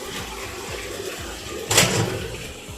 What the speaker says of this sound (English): When we start, we want to drain the water out.